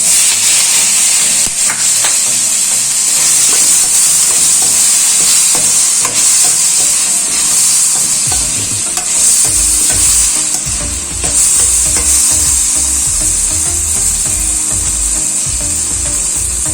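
Tomatoes fry loudly in a pan for a drumstick masala curry. A steady sizzle carries throughout, and a spoon scrapes and stirs in uneven rhythmic bursts, close and without talk.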